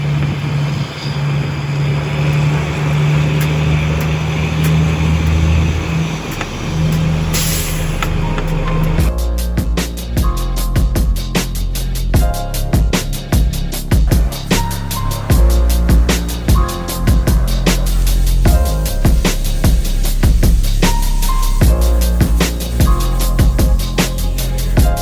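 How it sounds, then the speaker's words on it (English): A generator hardwired into a vehicle engine runs with a steady low mechanical drone, loud and close, then shifts into a rougher, choppier running note after about nine seconds. "So we now have the generator hardwired into the engine"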